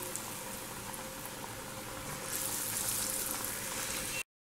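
Potato and onion pakoras frying in hot oil on a medium gas flame, giving a steady, even sizzle and bubbling with no talk, rising slightly midway before cutting off abruptly at the end.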